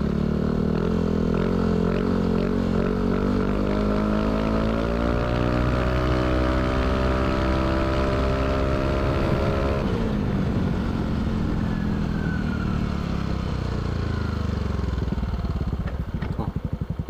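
A Yamaha Aerox scooter fitted with a K'RACE Standard Racing exhaust revs loudly and close, the pitch climbing steadily for about ten seconds before dropping back into a rough, throbbing lower note.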